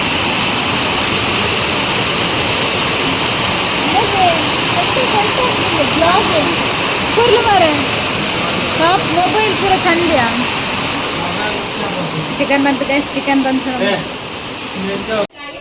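Rain falls outside a house in a village, a constant rushing hiss that runs beneath people talking throughout.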